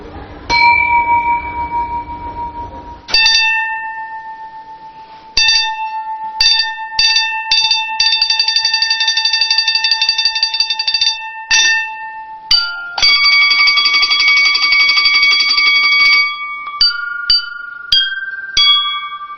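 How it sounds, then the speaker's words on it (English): Porcelain bells and chimes are struck in an uneven series of bright, ringing tones, some single and others in quick clusters, each sustaining and decaying with a clear shimmer, played close and loud with no talking. "it's not the case when you're playing these porcelain instruments. Yes, porcelain bowls, bells, drums, flutes, and chimes."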